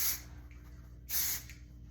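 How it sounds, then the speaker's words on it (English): Two short bursts of blowout texture spray hiss close by as it is sprayed onto hair, separated by a brief pause. "I've got a little bit of texture spray"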